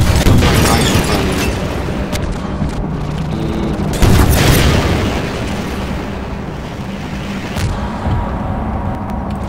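Rocket explosions in Half-Life 2 boom repeatedly over loud game noise, with several sharp blasts, the strongest near the middle, and rumbling aftermath between them.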